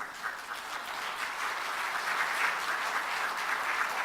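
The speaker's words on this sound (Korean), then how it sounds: "나머지 분들은 크게 박수로 격려해 주시고" A church congregation applauds steadily at a Sunday evening worship service in a sanctuary, with sustained, dense clapping from many hands that holds at an even level throughout.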